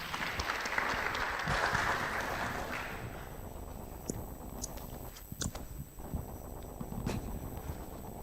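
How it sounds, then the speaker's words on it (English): Audience applause at a conference session on food policy, a spread of clapping that swells early then thins into scattered claps toward the end. "Please give applause to Mr. Seng."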